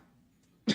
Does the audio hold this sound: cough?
yes